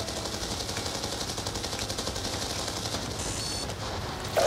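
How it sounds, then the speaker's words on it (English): Enemy gunfire in Call of Duty Black Ops 2, a steady rattle of automatic weapon fire running throughout at moderate loudness, with a brief louder burst at the very end. "Bravo receiving effective enemy fire."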